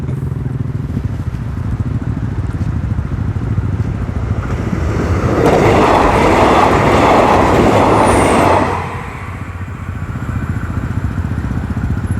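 A train rumbles through the Nong Saeng station railroad crossing, a steady loud rolling roar that swells into a broad rushing wash in the middle before easing back down.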